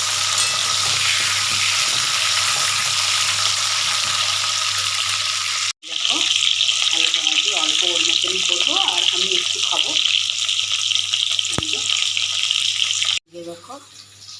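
Cut and washed potatoes frying in a pan for aloo dum, a loud continuous sizzle and hiss that cuts out briefly and then resumes with clinking of a utensil and a voice talking over it.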